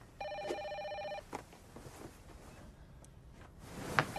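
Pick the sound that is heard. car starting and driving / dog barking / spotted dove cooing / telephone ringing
telephone ringing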